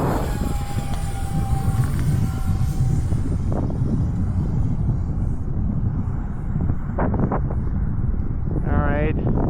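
Xfly F22 Raptor twin 40mm electric ducted-fan RC jet taxiing at full throttle, a continuous loud whooshing roar with wind buffeting on the microphone, a rising whine near the end, and someone talking over it.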